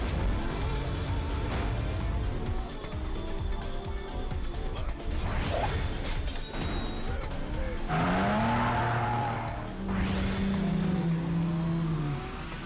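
Race cars in a racing video game roar continuously at close range, with repeated screeching tire squeals and skids rising over the engine noise throughout.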